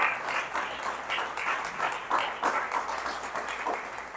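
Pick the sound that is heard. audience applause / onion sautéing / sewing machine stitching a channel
audience applause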